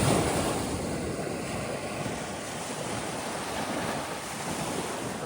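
Waves wash onto a beach in Malta under gusting wind, a continuous loud roar of surf with buffeting wind on the microphone and no voices.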